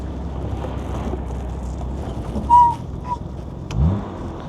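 A 1964 Jaguar E-Type Series 1 3.8-litre roadster drives along, its engine a steady low hum under wind and road noise, briefly rising around a couple of gear changes.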